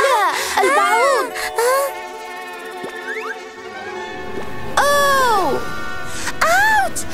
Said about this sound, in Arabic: أوه لا، البعوض.